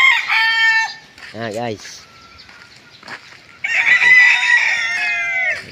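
Boston hens and a rooster in a backyard coop cluck and crow loudly nearby, with a long crow at the start and again near the end, under brief casual talk.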